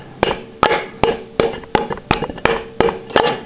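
Sharp knocks of a hammer handle against a Dodge 350 brake drum, about nine evenly spaced hollow metallic thuds, each with a short ringing decay, loud and close with no talk.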